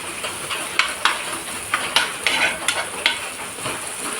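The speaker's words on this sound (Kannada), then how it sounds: "ಇದು ಈರುಳ್ಳಿ ಕೆಂಪು ಬಣ್ಣ ಆಗಬೇಕು ಫ್ರೈ ಆಗಿ" Onions frying in a pan until reddish-brown, a constant bright sizzle punctuated by repeated short scraping strokes of stirring, close and fairly loud.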